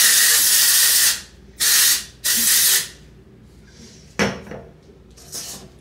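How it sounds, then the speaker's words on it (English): Hair texture spray from an aerosol can, three loud close hissing bursts of about half a second each, followed by a shorter spray and a faint final puff, with no voices. "And also, let's use some texture spray too."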